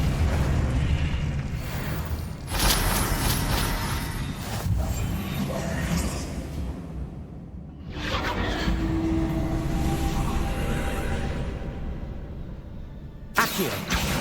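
The Confringo explosive spell in the Hogwarts Legacy video game goes off in several loud, broadband blasts with rumbling tails, separated by brief quieter gaps amid other combat noise.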